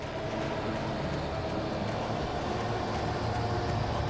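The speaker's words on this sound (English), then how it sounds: "the sound effect that plays when you find yourself in the darkness" Eerie darkness ambience from the video game Alan Wake, a dense, continuous low rumbling drone with a faint mechanical churn, steady and unbroken throughout with no voices.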